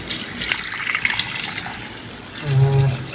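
Tap water runs steadily into a container in a home kitchen while garlic soaks for egg thokku, a continuous close hiss that swells louder near the end.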